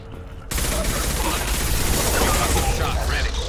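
Sustained gunfire in the video game Mass Effect 2, a dense, continuous volley that erupts abruptly after a brief quiet moment and holds loud for the rest of the stretch, with no talk over it.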